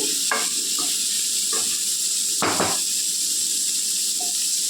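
Malabar spinach leaves frying in a pan with chili powder, a steady loud sizzle and hiss broken by a handful of brief scraping stirs, with no talking.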